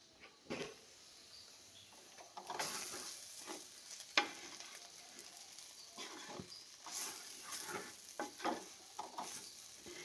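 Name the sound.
gooseberry pickle paste bubbling while cooking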